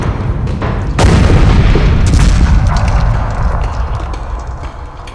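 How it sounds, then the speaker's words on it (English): Satchel charges detonate in the video game Vagrus, setting off a loud deep boom at about one second that turns into a long rumbling roar and collapse, slowly fading away. "he sets satchel charges onto structurally essential pillars and beams, and then, when everyone is at a safe distance, detonates the explosives with a pistol shot."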